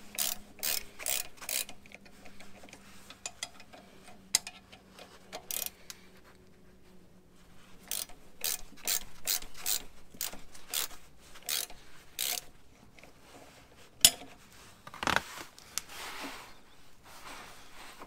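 A ratchet wrench loosening bolts on a Jeep steering shaft clicks in quick rapid bursts, close and fairly quiet, pausing between runs, with a few sharper metallic knocks later on.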